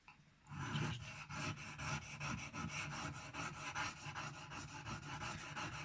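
A Spyderco Byrd Robin 2 knife is drawn freehand across diamond sharpening stones while being reprofiled, producing a rapid, regular series of gritty rasping strokes, close and fairly quiet.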